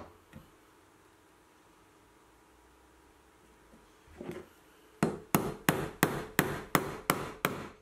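Chisel work on an oak sign: after a quiet stretch with one faint knock, a sharp strike lands, then about eight evenly spaced mallet taps ring out loud and close, each a crisp impact with a short decay.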